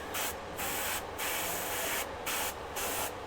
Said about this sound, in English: I have to spray it on my hand to make sure it's still doing anything.